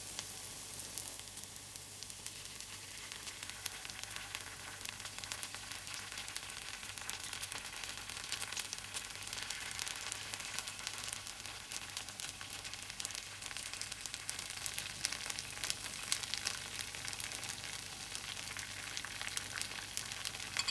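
Potato-stuffed kuzhipaniyaram batter fries in a pan over medium flame, producing a continuous, even sizzle and crackle that stays steady from start to finish with no talking.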